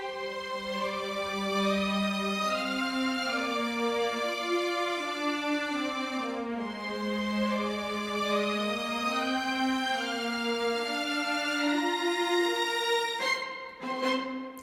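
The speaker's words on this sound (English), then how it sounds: "the violin melody is actually counterbalanced now by the cello as well. So the cello is now playing sort of a counter melodic figure" An orchestral string library carries a sustained violin melody with a cello counter-melody moving beneath it in smooth legato phrases, rich and full, closing with a brief short-note accent and no talking.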